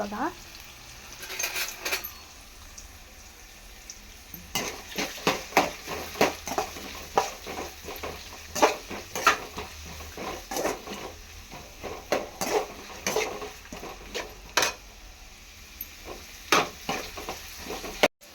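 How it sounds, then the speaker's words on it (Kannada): Onions frying in a pan for Mandya-style vangi bath, a steady sizzle broken by sharp crackles and pops and scraping stirring clicks that grow busier partway through, close and fairly loud with no talk. "ಇವಾಗ ಈರುಳ್ಳಿ ಜೊತೆನೇ ಹಾಕ್ತೀನಿ ನಾನು, ಯಾಕಂದರೆ ಅದು ಪಟಪಟ ಅಂತ ಸಿಡಿಯುತ್ತಲ್ಲ, ಅದಕ್ಕೇ. ಇದು ಚೆನ್ನಾಗಿ ಫ್ರೈ ಆಗಬೇಕು."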